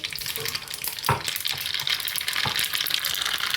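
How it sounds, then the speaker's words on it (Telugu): Mustard seeds go into hot oil for a tempering, giving a dense, close sizzle with scattered spitting pops and a few stirring clinks, heard alone without speech. "ఆవాలు వేసానండి."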